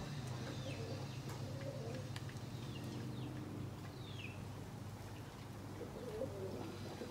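Tumbler pigeons cooing outdoors, low soft coos repeating over a steady background hum, with a few scattered higher bird calls; no wingbeats stand out.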